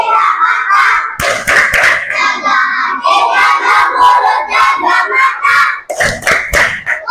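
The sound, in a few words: group rhythmic clapping chant, tepuk puasa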